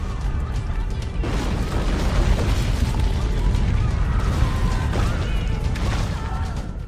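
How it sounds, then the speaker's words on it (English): Rumbling crashes, booms and debris collapse of the 1755 Lisbon earthquake in the video game Assassin's Creed Rogue, a sustained loud chaotic roar with scattered cracks and bangs. "you experience the quake firsthand near the beginning of Assassin's Creed Rogue."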